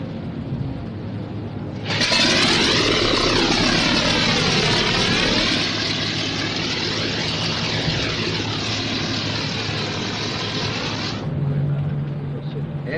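A vintage propeller aircraft engine, the old Tiriagi, coughs into life and settles into a loud, steady roar with wavering tones, running for about nine seconds before it cuts back to a lower rumble.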